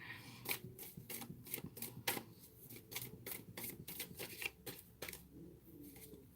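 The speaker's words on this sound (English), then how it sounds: "I can sit here and talk and shuffle all day long." Repeated crisp riffling and slapping of tarot cards, a steady run of sharp bursts close up, with faint low background noise underneath.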